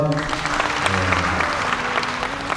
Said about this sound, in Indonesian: Bapak Ketua Ombudsman Pak Umar, tepuk tangan untuk beliau